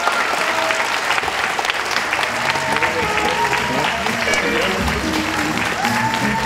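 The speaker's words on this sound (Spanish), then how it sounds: "un fuerte aplauso nuevamente para estos dos muchachos" Hearty audience applause, continuous clapping for several seconds with voices and cheers mixed into the crowd noise.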